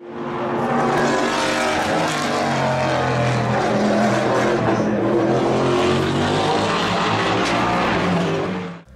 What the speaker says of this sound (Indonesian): ini adalah next gen Camaro yang sebenarnya memang sudah diadaptasi untuk berkompetisi di Le Mans